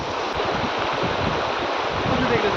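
A river stream rushes steadily and fairly loudly, a continuous broad wash of flowing water with some wind noise mixed in throughout.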